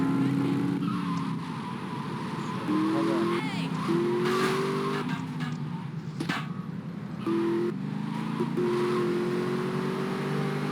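Car engine driving and skidding in the video game GTA Liberty City Stories, a steady engine drone with rising revs and tire squeals, over background game sounds.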